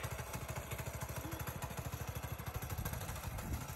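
A Predator 212cc go-kart engine idles while warming up, putting out a steady, rapid, chugging putter that is close and continuous, with no talk over it.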